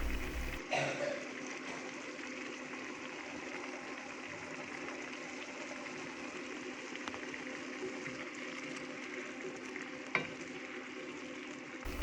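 Steady sizzling and crackling of fried fish being stir-fried in a hot pan with spring onion and ginger, close up, with a faint scrape of stirring and a light clink near the end.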